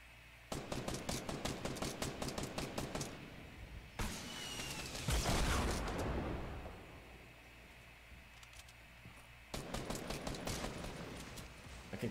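Rapid automatic gunfire from Fortnite Battle Royale, loud, tight bursts at the start and again near the end, with a rushing blast and quieter game ambience in between; no talking.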